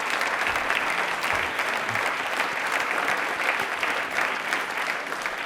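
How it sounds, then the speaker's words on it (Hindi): Studio audience applause on a Rajasthani television quiz show, a steady dense wash of clapping that holds at an even level throughout with no voices over it. "एक बार तालियां जोरदार होनी चाहिए प्लीज"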